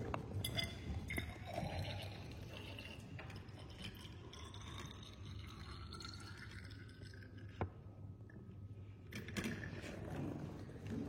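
Water trickles steadily into an empty measuring cylinder set on a scale, a soft continuous pour of about ten millilitres, faint and close, with no voices over it.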